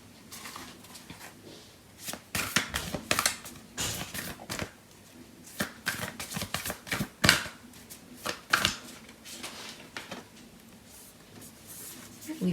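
Tarot cards being shuffled and handled in a reading, giving repeated crisp riffling and slapping bursts in irregular clusters, fairly close and moderately quiet, with no talking.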